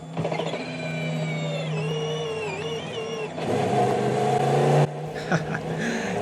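An IMSA GTP prototype race car on cold Michelin tires launches out of pit lane at Petit Le Mans, its engine note rising and shifting loudly and continuously, with a brief burst near the end.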